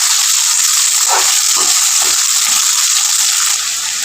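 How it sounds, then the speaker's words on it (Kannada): Onions frying in oil with mustard seeds in a home kitchen, a loud, steady hissing sizzle that fills the whole clip with faint crackles and scrapes underneath. "ಚೆನ್ನಾಗಿದು ಎಣ್ಣೆಯಲ್ಲಿ ಫ್ರೈ ಮಾಡ್ಕೊಳ್ಳೋಣ ಸ್ವಲ್ಪ ನೀಟಾಗಿ ಉಳ್ಳಾಗಡ್ಡಿನ"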